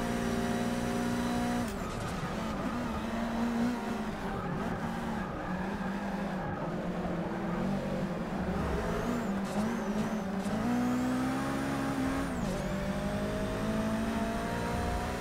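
Race car engines in Forza Motorsport 6 drone loudly and continuously, pitch sweeping up and down through gear changes, with occasional tire squeal over the steady roar.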